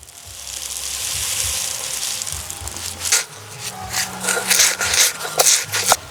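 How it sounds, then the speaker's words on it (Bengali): Puffed rice is ground by hand, first as a smooth continuous rubbing rasp, then as uneven scraping and crunching strokes, close and moderately loud with faint low background sounds. "বাকি মুড়িগুলো আমি এভাবে বেটে নেব।"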